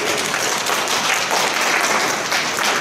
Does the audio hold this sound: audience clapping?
yes